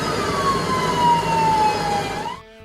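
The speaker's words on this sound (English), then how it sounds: "Sirens echoed endlessly as rescue crews scrambled" An emergency vehicle siren in Tokyo during catastrophic flooding holds a long falling tone that sweeps back up before cutting off, loud against a rumble of traffic, with no voices.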